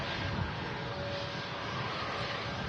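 A Ryanair Boeing 737 MAX 8-200 touches down at Manchester Airport, heard as a steady, broad engine roar and rushing air at moderate distance, without voices.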